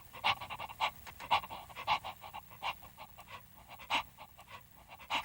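A dog pants in quick rhythmic breaths, close and steady for several seconds, the breaths even and unhurried with no talk.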